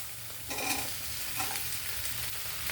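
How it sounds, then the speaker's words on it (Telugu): Okra pieces fry in a pan for a traditional kutu, giving a steady broadband sizzle that swells as they drop in, with soft stirring scrapes and no voices. "ఇప్పుడు ఈ బెండకాయ ముక్కలు వేసేయాలండి"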